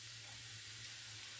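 Carrot and other vegetables cook in a covered pan over the heat, giving a soft, steady sizzle and hiss of steam throughout, faint and unbroken, with no voices.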